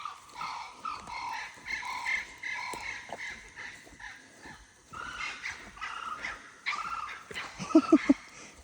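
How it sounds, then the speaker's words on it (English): Lots of birds call from the bushland near a creek behind a rural property, overlapping chatter and repeated harsh calls at moderate distance, with a few louder nearby notes toward the end. "Got lots of birds talking to me right now."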